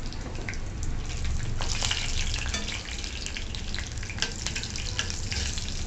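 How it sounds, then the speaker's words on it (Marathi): Mustard seeds, peanuts and green chili fry in a kadhai with a dense continuous crackle and sizzle and scattered sharp pops, close and steady, with no voices. "कढईमध्ये राई तळतडली की आपण शेंगदाणे टाकून घ्यायचे थोडे, आणि हिरवी मिरची।"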